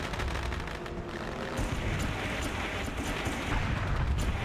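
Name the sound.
fireworks going off at Eldora Speedway in a racing video game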